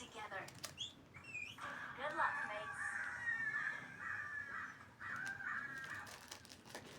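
A crow caws in the battle-royale game PUBG, a run of harsh repeated calls sitting over quiet game ambience, with faint voices of players murmuring underneath.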